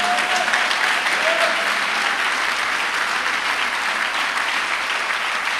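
A church congregation applauds in worship, dense sustained clapping from many hands filling the room steadily throughout, loud and continuous with no gaps.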